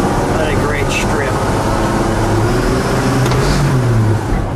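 A 1954 Chevrolet 3100 half-ton pickup truck engine running while driving, a loud continuous drone with slowly shifting pitch as the engine revs rise and fall, steady road and cabin noise throughout.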